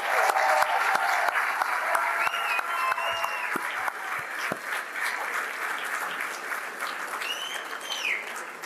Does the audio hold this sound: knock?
no